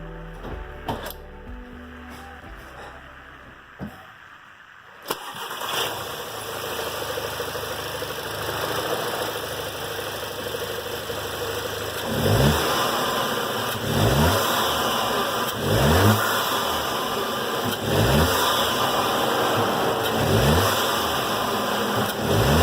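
An Audi A3/S3 fitted with an APR carbon fiber intake cranks and fires, settles into a steady idle, then is revved in a series of rising and falling blips, loud and close.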